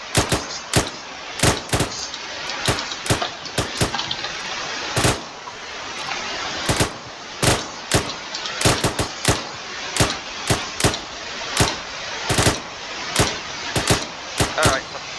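Rapid rifle and machine gun fire rings out during military commando training, a dense run of sharp, loud shots in quick bursts with brief gaps across the whole stretch.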